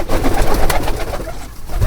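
Pigeons kept in a loft coo close by in soft, repeated rolling calls over a short stretch, with no talk.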